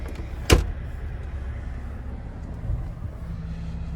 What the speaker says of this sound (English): I'm gonna open the glove box, hit that button there